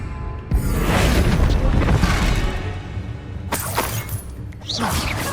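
A Confringo blasting spell in the video game Hogwarts Legacy bursts into a loud, close explosion with a crackling rumble, followed by a second sharp blast and swooshing effects; a voice is heard amid the action.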